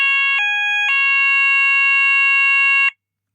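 Kentec Syncro addressable fire alarm sounder, set off by an Apollo XP95 detector, holds a loud steady electronic tone whose pitch dips briefly and then returns before cutting off abruptly, with no talk.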